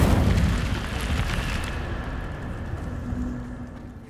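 A fire spell, Incendio, cast in the video game Hogwarts Legacy: a loud roaring whoosh of flame at onset that settles into a steady crackling rumble, alone without voices.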